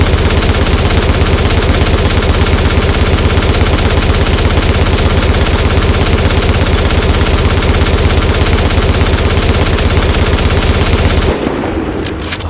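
A machine gun in the video game The Division fires a long, sustained burst of rapid, evenly spaced shots, loud and close, running without pause for about eleven seconds before cutting off abruptly.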